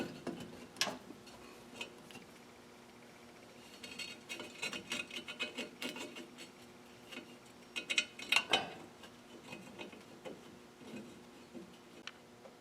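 A new wheel cylinder is bolted onto a Ford dual servo drum brake, giving quiet, scattered metallic ticks and ratchet clicks from the wrench in a still workshop, with bursts of tighter clicking and no talking.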